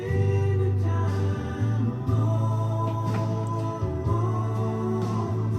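A country song with sustained bass and steady harmonic chords plays continuously at moderate volume, with no talking over it.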